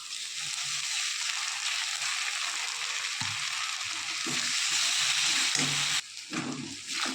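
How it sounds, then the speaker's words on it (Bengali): Ground spice paste frying with onions in oil for a tangra fish curry gives a loud, steady close sizzle, with a brief dip near the end as the pan is stirred, and no voices. "ভালো করে মশলাটাকে কষিয়ে নেব।"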